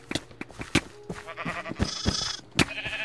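Sheep in the game Minecraft bleat several times in quick, overlapping calls, close and fairly loud, amid other game sounds and brief clicks.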